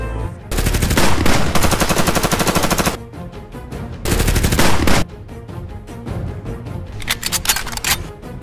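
Rapid automatic gunfire from a PUBG video game match, loud sustained bursts of machine-gun fire broken by short pauses and scattered single shots, with no talking.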